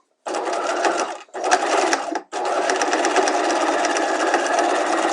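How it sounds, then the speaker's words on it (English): A sewing machine runs close up as it stitches an in-seam pocket in place on a garment, humming in a steady whir. One short pause breaks the first burst, then the motor keeps a longer continuous run. "So let's just stitch that in place real quick."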